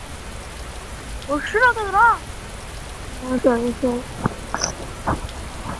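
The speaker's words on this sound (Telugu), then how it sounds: "వర్షం పడుతుంది, రారా." Steady rain hisses down in the haunted-house setting of the video game Indian Theft Auto Simulator, with several voices calling and talking over the patter.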